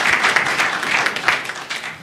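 Brief applause from attendees at a county government press briefing in Meru, a short burst of scattered clapping that rises and eases off over two seconds.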